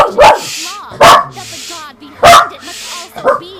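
Puppy in the video game Genshin Impact barks in sharp, loud yips, about four close bursts with short whining gaps, alongside brief talk.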